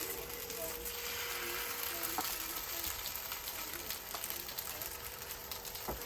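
Arepas toast in butter in a hot skillet, giving a steady, continuous sizzle and crackle from start to finish, with a few small clicks and light knocks on top.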